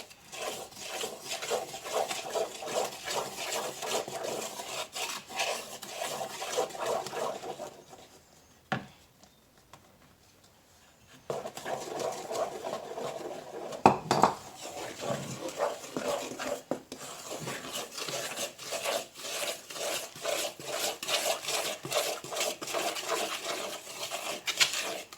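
A spoon stirs banana muffin batter by hand in a bowl, steady soft scraping and rubbing strokes with a pause in the middle, faint and close, resuming with a few knocks against the bowl.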